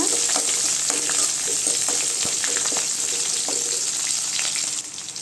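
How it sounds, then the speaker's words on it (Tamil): Onions sauté in a pan for country chicken chukka, a loud, constant frying sizzle with scattered scraping and stirring clicks throughout, easing slightly at the very end. "வெங்காயம் நல்லா வதங்கட்டுங்க."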